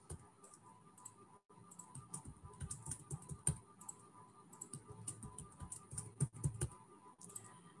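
Fingers type a password on a computer keyboard in a quiet room, a steady run of light, close key clicks with short pauses.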